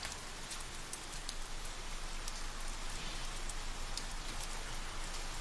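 Steady rain falls outside a front gate, a dense even hiss with scattered brighter drops, continuous and fairly close throughout, with no voices.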